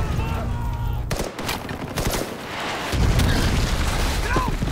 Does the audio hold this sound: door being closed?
no